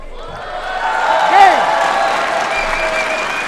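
Warm applause and cheering from the crowd at a women's singles semi-final of a badminton international in the Palais des Sports, Orléans, a dense, steady wash of clapping with a brief whoop rising in the middle.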